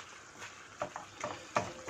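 A spoon stirring tuna encebollado in a pot after a splash of vinegar, soft scraping strokes with faint sizzling underneath, quiet and close.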